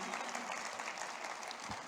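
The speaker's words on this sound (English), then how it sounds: "Give a round of applause to Joe Uribe. Give it applause." Audience applause for an angler at a live bass tournament weigh-in, the Western Bass Shootout in Sacramento, a steady, fairly faint wash of clapping from a crowd that lasts the whole short stretch.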